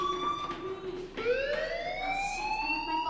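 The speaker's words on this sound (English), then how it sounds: "Hey, do you hear that fire alarm?" A school fire alarm in the Life Is Strange video game wails loudly and continuously, its tone dipping and then sweeping upward in a rising siren-like pitch, with no voices over it.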